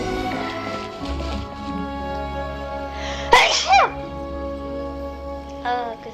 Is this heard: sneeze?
yes